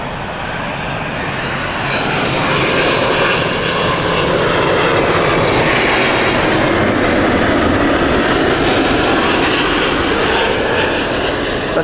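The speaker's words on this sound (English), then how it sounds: "First, another heavy from British Airways." A British Airways heavy jet at Heathrow roars loud and steady throughout, its broad engine rumble and whine filling the air without a break.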